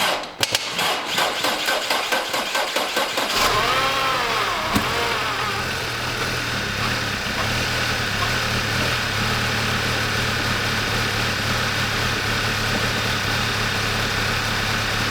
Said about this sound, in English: it was finally time to start the car again